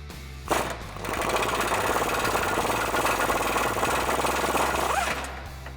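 A socket wrench, likely powered, drives out a tow hook bolt on a 2014-2015 Chevrolet Silverado 1500 with a rapid, buzzing mechanical chatter. The sound runs continuously for several seconds after a brief initial knock, then stops abruptly.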